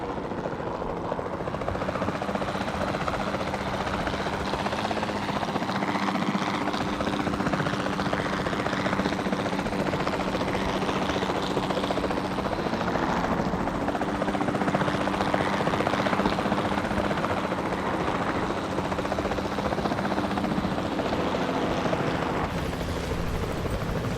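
A capture team helicopter in the video game Jurassic World Evolution 2 drones continuously with a steady rotor and engine roar, loud and unbroken throughout with no speech.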